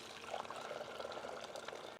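Water is poured into a pot to be brought to the boil in a home kitchen, a steady faint splashing stream lasting a couple of seconds with no talking.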